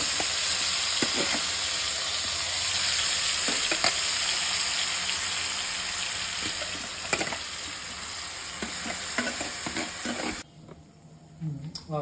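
Grated ash gourd pumpkin fries in ghee for halva, giving a steady, loud sizzle with occasional stirring scrapes that stops abruptly near the end, leaving a quieter hiss.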